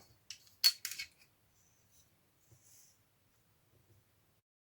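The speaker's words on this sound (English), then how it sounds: "So, I'm going to cut out a window over here." Scissors snip through paper to cut out a window for a botanical journal, a few quick close crisp cuts in a short burst, then quiet rustles and near silence.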